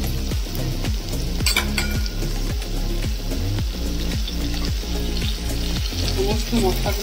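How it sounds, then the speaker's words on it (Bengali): Spices fried with tomato paste in a pan for potol macher jhol, a Bengali pointed-gourd and fish curry, giving a steady close sizzle that runs throughout under rhythmic background music. "সমস্ত মশলাগুলো আমি ভালোভাবে এইভাবে 5 থেকে 7 মিনিট কষে নেব"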